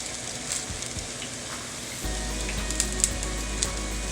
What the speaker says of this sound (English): Add thinly sliced beef and cook, saute until the color of the meat changes